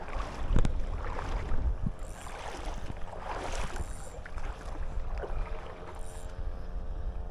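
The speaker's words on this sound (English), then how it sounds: "I'd bring that boat in quickly" Water sloshes and laps against a small boat off the coast of Jamaica, with a knock or two against the hull and gusts of wind buffeting the microphone.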